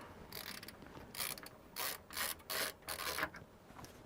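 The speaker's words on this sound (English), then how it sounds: "I am going to take off screws over here." Screws being backed out of a Power Computing Mac clone case, heard as a close, quiet series of short metallic squeaks and grinding turns that come in uneven bursts with brief pauses between them.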